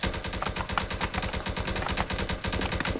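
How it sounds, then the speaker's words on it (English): Rapid, sustained automatic gunfire in a Roblox Black Hawk rescue mission game, a dense continuous burst of shots with no pauses, loud and close. "Someone's shooting me."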